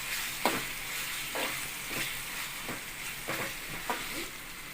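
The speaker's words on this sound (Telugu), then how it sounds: "ఇప్పుడు అల్లం వెల్లుల్లి పేస్ట్ వేసుకుందాం. తగిన పచ్చివాసన పోయే వరకు కలుపుకుందాం." Ginger garlic paste frying with softened onions in a pan, a steady low sizzle broken by a slow series of spatula scrapes roughly every second, close and fairly quiet, no voices.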